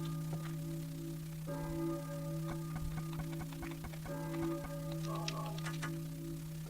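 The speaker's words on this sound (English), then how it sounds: "And of course you have the pealing church bell." Church bell pealing in the Silent Hill video game, struck tones ringing out repeatedly with sustained hum beneath, along with scattered ticking clicks, moderately loud throughout.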